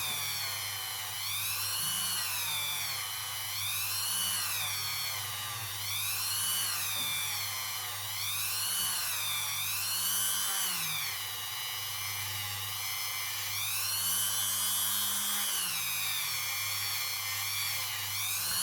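A rotary tool fitted with quad-zero steel wool polishes fire scale off a quarter-dollar coin ring, giving a steady high-pitched whine that rises and falls in repeated sweeps as the pressure changes, close up and continuous with no talking.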